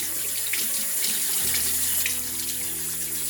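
A tap runs steadily into a sink while paint brushes are rinsed under it, a loud, continuous gush of water close by with no voices.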